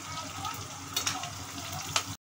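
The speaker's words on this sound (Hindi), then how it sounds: "अब मैं तड़के में हरी मिर्च डाल रही हूँ। देखिए इसको भून लेते हैं।" Green chillies sizzle in hot tempering oil in a kitchen pan, a steady close crackle with a few brief louder spits of stirring, ending abruptly.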